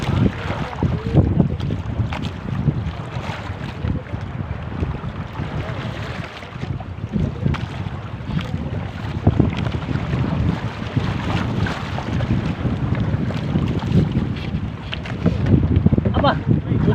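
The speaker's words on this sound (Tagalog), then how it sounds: "Aba, lakas ng hangin." Strong wind buffets the microphone on a small boat heading out to sea to fish, a steady broadband roar with water noise underneath and occasional voices and shouts in the background.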